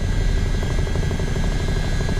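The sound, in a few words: Chinook helicopter hovering near a mountain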